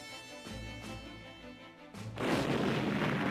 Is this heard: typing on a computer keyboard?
no